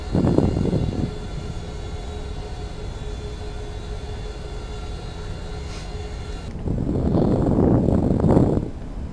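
A Boeing 737-800 descends in Flight Simulator X, its engines giving a steady drone that swells louder at the start and again near the end.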